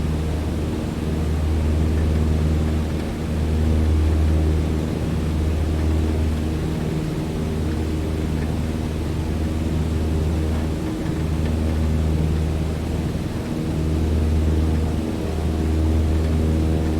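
A Cessna 152 single-engine piston plane in Microsoft Flight Simulator 2020 holds a steady, loud engine drone at full throttle, with a pulsing low hum that runs continuously and alone.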